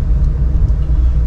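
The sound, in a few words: car engine while parking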